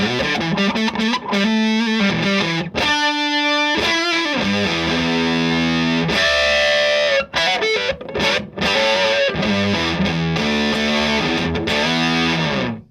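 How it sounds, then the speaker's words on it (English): An electric guitar's bridge pickup driven through a Dunlop Fuzz Face pedal plays loud, thick, buzzing fuzz chords and sustained notes, with short gaps between phrases and a fading final note. "let's hear your bridge pickup with that pedal first"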